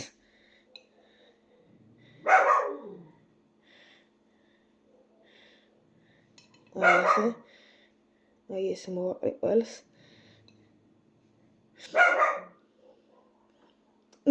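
A dog barks a few separate times at a distance, with quiet gaps between, and a person speaks briefly in between.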